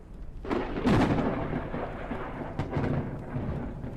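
Thunderstorm in a survival video game, with a loud rolling thunder rumble that swells after a half second and slowly fades, with rain noise underneath and no talk.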